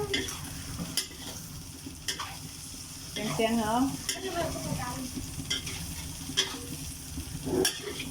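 Food sizzles and hisses in a hot pan while a utensil stirs and scrapes, with someone talking over it.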